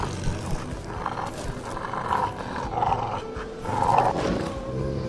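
Wolves in the video game Kona snarl and growl in a menacing, rough roar that swells and pulses over several seconds, loud and close within the game's sound mix, with no talk over it.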